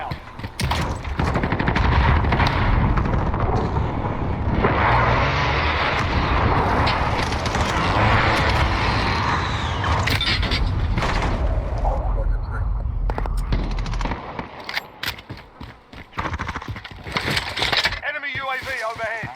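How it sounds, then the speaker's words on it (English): Heavy gunfire and explosions from an incoming precision airstrike in a video game, a loud continuous barrage of rattling shots and blasts with crackling debris, easing slightly near the end. "Be advised, friendly precision airstrike inbound."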